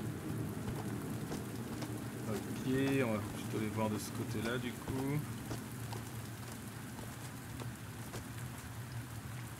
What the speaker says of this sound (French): Ah si, il pleut.